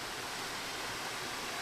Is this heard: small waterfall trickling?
yes